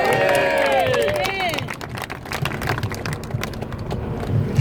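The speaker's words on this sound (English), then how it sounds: "let's have a big round of applause for our international guests" Crowd at an outdoor Britain First demonstration breaks into sustained applause and cheering, dense clapping mixed with shouts and whistles, loud and close at first and then settling into scattered claps and murmuring chatter.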